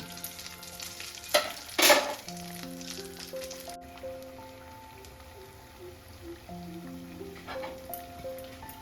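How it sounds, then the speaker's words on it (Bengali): Pumpkin-coconut chops fry in hot oil with a steady, soft sizzle, joined by a couple of louder clattering bursts early on, while gentle melodic music plays in the background. "আবারও আমি মিনিট 3-4 ভালো করে এটাকে ভেজে নেব"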